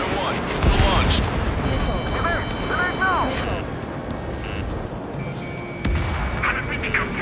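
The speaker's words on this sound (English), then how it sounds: "Strider 1, missile launched." In Ace Combat 7, a missile launches with a rushing roar and explosions boom, over steady jet engine noise and radio chatter, with a deep thud near the end.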